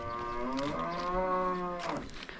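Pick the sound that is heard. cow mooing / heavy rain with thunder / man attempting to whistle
cow mooing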